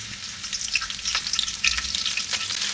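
Garlic and chillies frying in hot oil for egg hakka noodles, a bright crackling sizzle with sputtering pops, close and fairly loud, with no voices.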